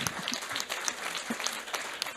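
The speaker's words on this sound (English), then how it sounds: "think the clap can be a little louder" Audience clapping at a medical conference award ceremony, a steady round of applause with distinct individual claps standing out, moderately loud and continuous for the whole moment.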